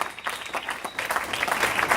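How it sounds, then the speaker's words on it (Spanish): A church congregation breaks into sustained applause, a dense steady wash of many hands clapping that holds for the whole stretch and swells slightly toward the end. "Can we just give God a clap offer right now"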